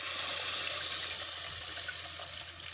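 Strained tamarind water is poured into a pan of fish curry with sautéed onions and tomatoes, a steady hissing, splashing pour running for a few seconds and tapering slightly at the end, with no talking.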